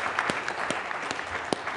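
Audience applause at a live show-and-tell presentation event: a dense, steady wash of many hands clapping close by, with a few sharper individual claps standing out across the whole stretch.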